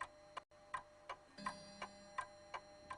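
A household clock ticks steadily, its sharp ticks evenly spaced and close, with a brief low hum partway through and nothing else around it.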